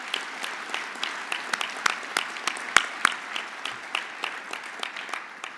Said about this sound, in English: will you please join me in a round of applause for our great soldiers